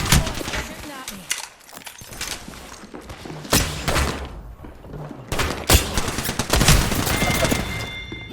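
Sustained Apex Legends gunfire: repeated bursts and scattered shots from several weapons over about eight seconds, loud and close with brief lulls, a voice talking faintly beneath the shooting.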